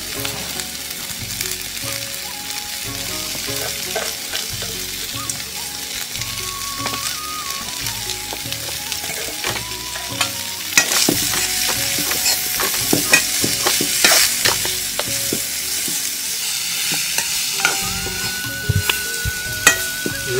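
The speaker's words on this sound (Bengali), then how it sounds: "তারপর মূলাগুলোকে একটু কষিয়ে নিলাম" Sliced radish and dried fish sautéed in a pan, loud continuous sizzling with frequent clattering stirs and spatula scrapes, close up with no voices, while faint melodic tones play underneath.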